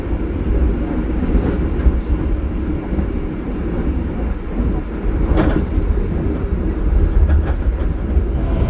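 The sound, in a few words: KA Gunungjati passenger train passing through Cirebon Prujakan station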